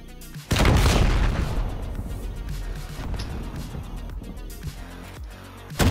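A C4 charge detonates in Modern Warfare with a sudden loud close blast, followed by a long roaring rumble that slowly fades, then a sharp jolt at the end.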